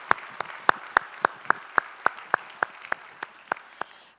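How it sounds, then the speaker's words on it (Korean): A church congregation at a Sunday worship service claps together in a steady, even rhythm, about three sharp claps per second, sustained and fairly close. "우리의 찬양을 받으실 주님께 영광의 박수 올리겠습니다"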